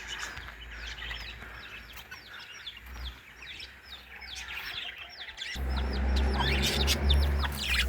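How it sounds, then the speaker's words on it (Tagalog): Chickens cluck and small birds, including parakeets, chirp repeatedly in a home garden, a busy overlapping chorus that grows louder and closer toward the end with a low rumble underneath. "May mga birds pala kami."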